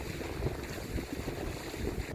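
Steady wind rushes past a sailboat under way at about four to five knots, a dense, continuous roar with low buffeting on the microphone and faint water wash beneath, no talking.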